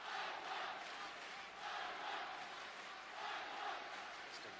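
A crowd roars at a men's -68kg taekwondo match, a broad, steady wash of cheering and noise that swells and eases in waves, heard from a distance.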